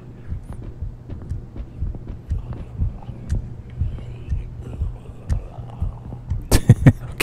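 Steady thumping heartbeat from the horror video game Lunch Lady, a regular low double-pulse repeating throughout at moderate volume, with a few louder thuds near the end.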